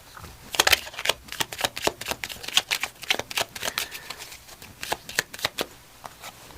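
Tarot cards are shuffled close up in a quiet room, a rapid run of crisp riffling and slapping bursts with brief pauses between them and no voice.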